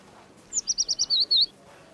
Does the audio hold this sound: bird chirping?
yes